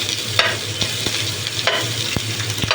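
Minced garlic sizzling steadily in ghee in a frying pan, a close, continuous hiss broken by a few scraping stirs of a utensil.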